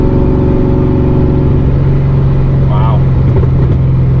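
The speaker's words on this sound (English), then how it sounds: "can we just kind of open up the exhaust and see what we hear now?" The exhaust of a supercharged 347 Foxbody Mustang rumbles in a loud, steady, deep drone, close by, with a brief exclamation from someone nearby.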